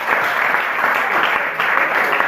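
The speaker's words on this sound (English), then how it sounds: "Please, a round of applause for them." Audience applause for student debaters at a school debate on traditional African attire versus Western-style uniforms, a loud, even roar of many hands clapping without a break.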